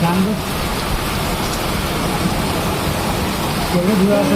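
Steady heavy unseasonal rain in Mumbai pours down in a dense, even hiss, with faint voices breaking through near the start and end.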